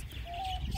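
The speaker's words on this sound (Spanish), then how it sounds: "esta es la jaula de mis pájaros," Small caged birds, canaries, finches, doves and quail, give a thin sustained whistle-like call over a low background rumble, brief and fairly close, no talking.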